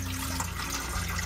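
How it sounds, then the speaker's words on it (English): Four cups of cool tap water poured into an electric pressure cooker beside corned beef, a steady close rushing splash that continues evenly with no talk. "This is cool tap water. And this is 4 cups. I'm going to pour it down on the side"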